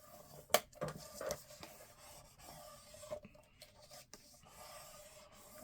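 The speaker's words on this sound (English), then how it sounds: "Fold this one back and burnish the middle one." Folded paper is burnished along score lines with a tool, giving faint, close scraping and rubbing strokes and a few sharper taps in an irregular rhythm, with no one talking.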